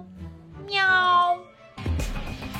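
A person imitates a cat with one long, drawn-out meow, loud and close, followed by a burst of broadband noise.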